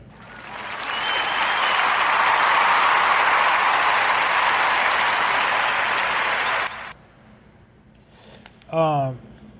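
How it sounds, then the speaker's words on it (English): A canned applause effect triggered by a button on a podcast, a loud, dense crowd clapping for about seven seconds that then cuts off abruptly, followed by a brief voice. "I'm going to hit the applause button early because that's amazing"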